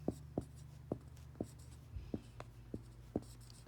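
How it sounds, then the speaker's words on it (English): A pen or pencil writes a formula by hand, making faint, close scratchy strokes in a quick irregular rhythm of about a dozen short taps and scrapes. "I'm going to write my formula."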